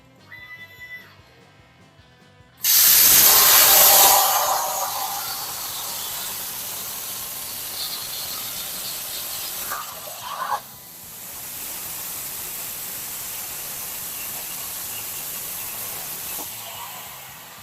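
CNC plasma table cutting 1/4 inch steel plate, a loud burst of harsh hissing for about two seconds, then quieter steady hiss and faint workshop noise, with a short sharp flare near the middle.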